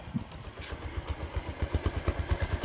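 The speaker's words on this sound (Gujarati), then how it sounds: "તો ભાઈ બાઇક ચાલુ થઈ ગયું છે." A motorcycle engine runs just after starting, its thumping pulses settling into a quickening, even rhythm at close range, with no one speaking.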